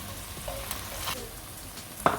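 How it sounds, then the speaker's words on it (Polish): Chopped onion sizzles and crackles in a hot frying pan, a soft steady hiss with small pops and a sharper burst near the end, with no talking. "I na tą rozgrzaną patelnię wrzucam sobie cebulę."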